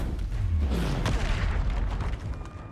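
Confringo spell blast in Hogwarts Legacy, a booming fiery burst with a low rumbling crackle, loud and close, sustained for a couple of seconds before tapering off, no talking over it.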